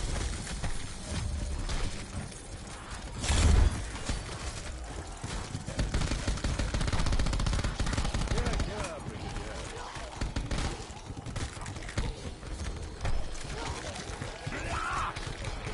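Steady, dense gunfire from a video game, DOTN, on Realistic difficulty, rattling continuously with repeated bursts of shots over a busy background.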